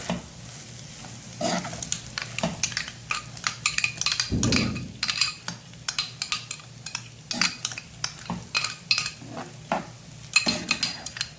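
Chicken slider filling being stirred with mayonnaise in a hot pan, quick scraping and clinking strokes of a utensil against metal in an irregular rhythm, with a soft sizzle underneath and no talking.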